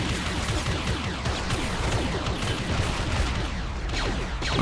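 Planetside 2 gunfire as a dense, continuous battle din of rapid shots and distant crackling volleys, steady and moderately loud throughout, with no voices over it.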